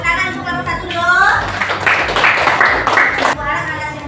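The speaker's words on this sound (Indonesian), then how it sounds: "tepuk tangan untuk kelompok 1 dulu" A classroom full of students claps for the first group as it comes to the front, a dense patter of hands building quickly and holding for about two seconds before tapering off, mixed with voices.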